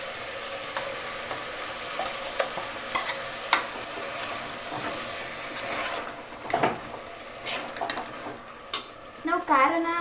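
Ground spice masala paste fries in oil with vegetables in a home kitchen, sizzling steadily while a spoon stirs and scrapes the pan with occasional clinks of metal, close and fairly loud.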